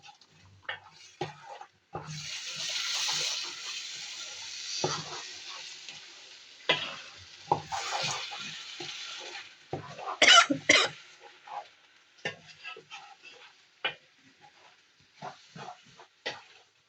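Ground tomato puree frying in oil for Ambur mutton biryani: a soft sizzle broken by scraping and stirring knocks, heard close with brief pauses and no talking.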